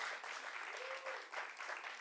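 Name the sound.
audience round of applause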